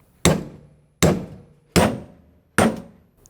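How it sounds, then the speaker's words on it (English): Four sharp metallic hammer blows drive a bearing race into a trailer wheel hub, evenly spaced about two-thirds of a second apart. Each strike rings close and loud, then decays quickly, with no speech. "now we could hammer it in with more force"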